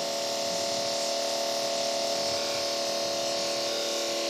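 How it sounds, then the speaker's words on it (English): A small 12-volt electric water pump drones steadily with a constant hum and hiss, unchanging throughout. "That's my water pump running right now, 12 volt water pump that you hear."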